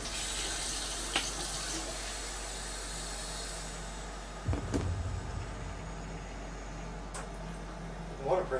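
Water running from a tap as the water pressure gives out, a steady hiss throughout with a few brief knocks and splashes, under a person's voice.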